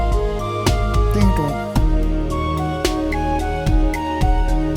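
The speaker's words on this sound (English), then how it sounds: "I just wanted a nice smooth bass, and this is what it sounds like on its own." A smooth synth bass from the Trillian plugin plays on its own, with a run of sustained, rounded notes and a clear attack at each new note.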